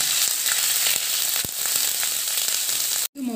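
Curry leaves drop into hot oil already popping with mustard seeds, a pickle base for date pickle; a loud, steady sizzle with scattered crackles runs throughout, cuts out briefly near the end, and then returns.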